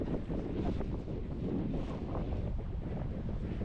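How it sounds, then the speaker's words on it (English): Strong easterly wind roars steadily across the microphone, buffeting it with broad low rumbling gusts, with a faint wash of water in the background and no voices. "So we have strong easterly winds today."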